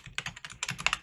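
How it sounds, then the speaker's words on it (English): Rapid typing on a computer keyboard, a close, crisp burst of about a dozen clicking keystrokes in an uneven rhythm with a short pause midway, no talk. "For me, I'm going to type out"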